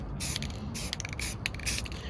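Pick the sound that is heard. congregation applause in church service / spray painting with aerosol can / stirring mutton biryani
spray painting with aerosol can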